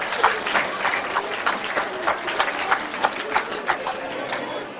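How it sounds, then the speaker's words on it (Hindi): Loud applause for staff members, a dense crowd clapping vigorously and continuously with bright sharp hand strikes, strong and sustained to the end. "जोरदार तालियां आप सभी कर्मियों के लिए, जोरदार तालियां।"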